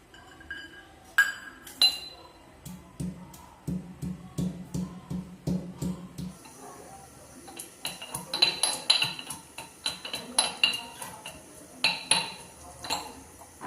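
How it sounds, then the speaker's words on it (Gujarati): Garlic pounded in a kitchen for a potato masala, sharp clinking strikes in a quick irregular rhythm, first with a low thudding base, then bright metallic taps continuing throughout, close and fairly loud, no talk. "મેં આ લસણ લીધેલું છે એને આપણે ખાંડી લઈશું"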